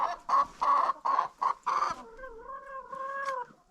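Close chicken clucking in several quick bursts, followed by a longer drawn-out squawking call, with no talking.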